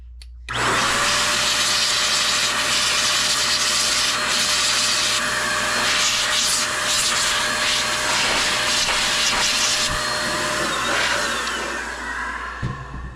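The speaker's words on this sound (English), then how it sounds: "Blow some dust out in the rotor here." Steady loud hiss of compressed air blowing dust out of the rotor of a Kmart Deluxe box fan, Lakewood, continuous and close for the whole stretch with a faint tonal whine.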